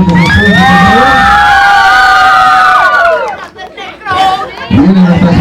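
An audience at a clown show's dance contest cheers and whoops loudly, with high shouts and excited voices over crowd chatter, dipping briefly before surging again.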